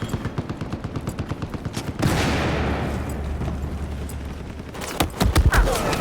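Battlefield 4 gunfire from a FAMAS-armed assault class: a steady rapid automatic rattle, then a heavy explosion and a rumbling boom, and more sharp shots near the end, loud and dense.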